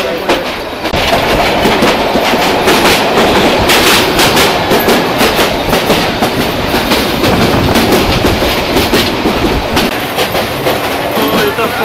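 A passenger train runs on rails from Sonatala toward Gaibandha in rural Bangladesh, a loud, close, continuous rumble with rhythmic clickety-clack wheel beats throughout.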